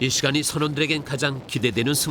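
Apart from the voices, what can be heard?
None of the usual background noises is heard.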